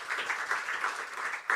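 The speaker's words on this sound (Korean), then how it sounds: "박수를 한번 환영하려고 하는데" A church congregation at a Sunday service claps to welcome a newcomer, a soft, dense patter of applause from a moderately distant crowd that briefly dips before swelling again.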